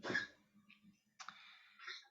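A few short, dry coughing bursts from an old dog, close by, separated by brief quiet gaps.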